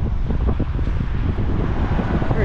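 Strong wind blows across a seafront by a large marina in Rabat, Morocco, producing a steady, loud, rumbling buffet of wind noise against the microphone that lasts throughout with no talk.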